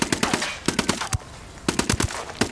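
Rapid automatic gunfire from a Ghost Recon Wildlands firefight, loud close bursts of several shots each separated by short pauses, with no talking.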